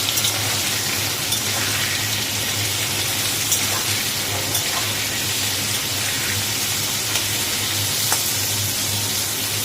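Potato and pumpkin frying with salt in a pan, a steady, loud sizzling hiss that runs unbroken throughout with no one talking.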